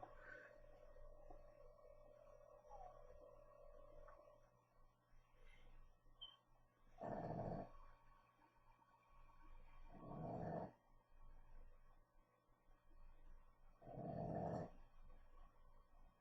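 A dog growls in three low, rumbling bursts spaced a few seconds apart, fairly close, over a quiet background with faint higher whining tones early on.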